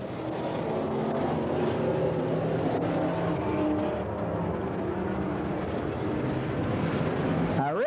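Race cars roar around the dirt oval at Willamette Speedway during a 15-lap C main event, a steady dense engine drone heard from a distance with a track announcer talking over it.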